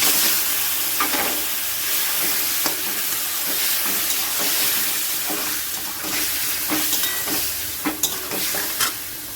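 Chicken pieces sizzling in a pan with salt, chilli, turmeric and cumin powders while being stirred, a loud continuous frying hiss broken by repeated scraping and clacking of the spoon, no voices.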